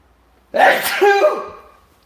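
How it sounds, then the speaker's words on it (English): A single loud, close sneeze bursts out after a moment of quiet, trailing off into a breathy tail. "That was a big sneeze."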